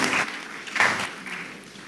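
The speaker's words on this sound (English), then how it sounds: "I want us to please give a round of applause for Professor Dorothy Uforth." A law conference audience claps for Professor Dorothy Uforth, brief bursts of applause that swell and then fade within a couple of seconds.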